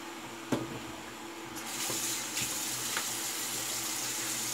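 A tap starts running partway through, a steady hiss of water into a sink for re-wetting the face during a shave, preceded by a few faint clicks and knocks.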